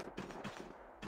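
Rapid bursts of gunfire from the Apex Legends video game, several loud automatic volleys in quick succession with short gaps between them, close and sharp, no talk.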